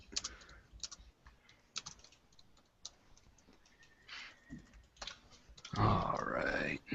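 Typing on a computer keyboard during a podcast: slow, uneven clusters of key taps and clicks, close by, with a voice and a grunt breaking in near the end.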